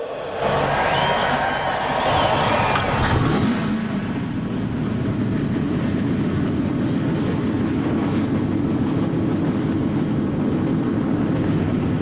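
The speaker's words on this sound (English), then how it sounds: "Gentlemen, start your engines." NASCAR stock car engines fire up together at Daytona before the 2009 Gatorade Duel 150. A sharp burst of starting engines swells into a sustained, loud rumbling roar mixed with crowd noise, with no clear speech.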